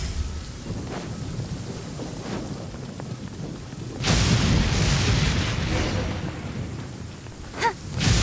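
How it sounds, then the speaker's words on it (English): Genshin Impact storm in Liyue: steady rain with a deep rolling thunder boom swelling midway, then a sharp crack near the end, with no voices. "Thunder and lightning can be quite frightening"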